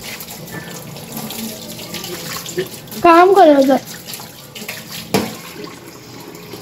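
Tap water runs steadily into a washroom sink or floor during cleaning, a continuous hiss throughout, with people talking over it and a brief clatter near the end.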